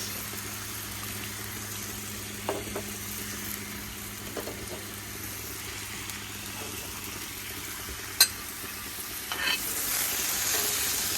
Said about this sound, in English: Then I'll start the vegetables. I'm gonna grill them together.